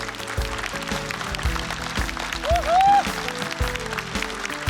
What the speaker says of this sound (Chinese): 再给他鼓鼓掌好吗